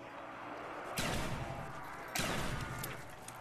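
Gunfire in the Call of Duty zombies map Kino der Toten: two sharp, loud shot bursts about a second apart over a steady game-ambience background, with no talk.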